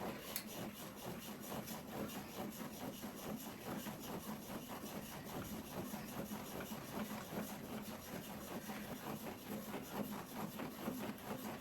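A home exercise machine runs with a steady, fast rhythmic whirring and clicking that holds an even pace for the whole stretch, faint and continuous with no talk.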